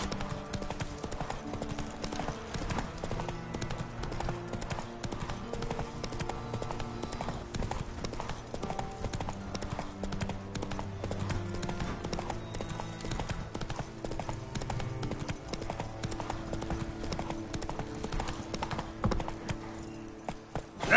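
Roach's hooves in The Witcher 3 keep up a steady, even trot of clip-clops throughout, moderately loud under a sustained musical score.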